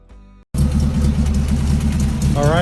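A 355-horsepower Ford V8 kit car engine with a 4-barrel carburetor idles with a deep, steady rumble, starting abruptly after a brief hum and a moment of silence.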